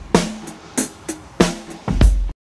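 A dry drum kit beat plays in an open outdoor space with little reverb: sharp, close kick and snare hits in a quick pattern ending on a heavier hit, with no talking.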